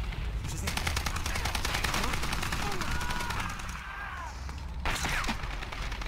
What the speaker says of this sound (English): I feel like this gun is so much easier to use with the new sound.